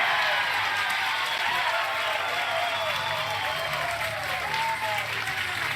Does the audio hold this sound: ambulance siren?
no